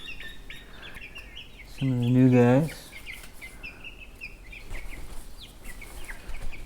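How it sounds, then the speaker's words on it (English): Backyard coop chickens, including a Delaware hen, give a single drawn-out, tonal call of about a second over quiet outdoor ambience, followed by faint scratchy clucks. A person speaks briefly nearby. "We'll see all the chickens."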